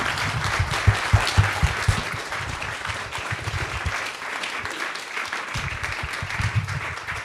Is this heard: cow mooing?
no